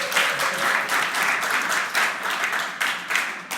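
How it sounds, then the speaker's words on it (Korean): A church congregation claps together in a sustained round of applause, a dense rippling patter filling a few seconds in the worship hall with no voices over it. "우리 박수"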